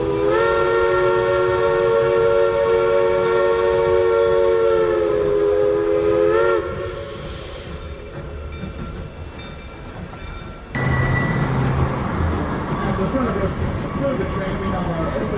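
A Mount Rainier Scenic Railroad train sounds a long, loud, steady whistle over the rumble of moving cars heard from an open-air car, then the rolling noise continues, dips, and swells again with clattering.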